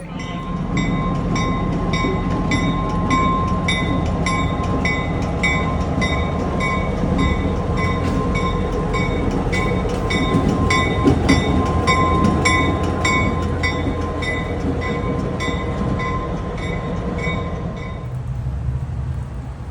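Continuous rumble and rhythmic clatter of a moving train carriage in Jim Thorpe, Pennsylvania, with steady tonal whine throughout, fading slightly near the end.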